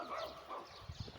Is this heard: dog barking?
yes